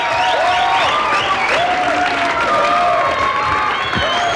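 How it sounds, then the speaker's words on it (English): A crowd at a live stand-up comedy show at Tufts in 1984 applauds loudly and continuously, with bright whistles and a few cheers rising over the clapping throughout. "Give yourselves a nice round of applause."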